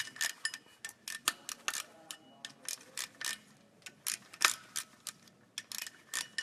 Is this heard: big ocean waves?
no